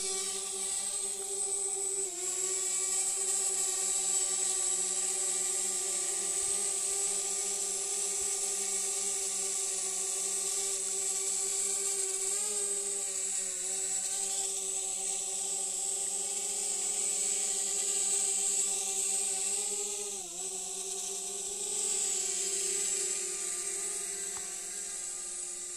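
DJI Spark drone lifting off and flying nearby, a steady high-pitched propeller whine and buzz that rises and dips slightly in pitch as it maneuvers, continuous and fairly loud with no talk.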